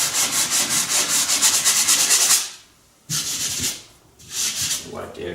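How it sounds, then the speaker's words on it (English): A sanding sponge rubs lightly over dried plaster patching a hole in drywall, in steady scratchy back-and-forth strokes close by, pausing twice before the scraping resumes. "we're going to take our sanding sponge and we're just going to lightly sand over the area."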